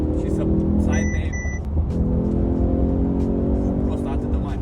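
A Mercedes-AMG car engine roars as it accelerates through a downshift, loud and close, while people talk over the sound.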